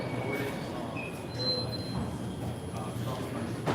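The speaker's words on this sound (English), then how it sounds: "This is a Brooklyn-bound 2 train." A Brooklyn-bound 2 subway train in New York runs with a steady rumble while thin wheel squeals and whining tones rise and fade above it. The sound is moderately loud and continuous.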